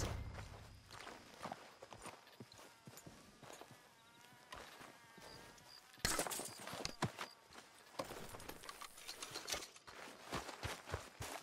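Irregular hoof clops of a horse walking on hard ground in Red Dead Redemption 2, fairly quiet and close, with a faint buzzing tone in the background and no talk.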